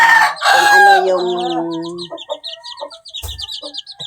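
A rooster crows loudly up close in a chicken coop, followed by a run of hens clucking, with brief faint background noise.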